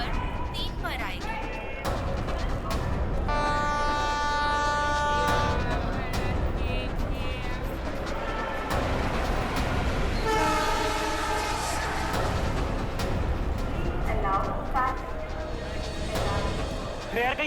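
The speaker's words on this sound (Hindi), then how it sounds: "मुंबई से दिल्ली जाने वाली पश्चिम एक्सप्रेस प्लेटफॉर्म नंबर 3 पर आएगी।" Paschim Express train pulling into platform 3 of a busy Indian station, a horn sounding in long sustained blasts over wheel and carriage rumble, with people talking throughout.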